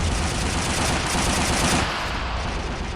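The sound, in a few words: gunfire from soldiers in video game Men of War: Assault Squad 2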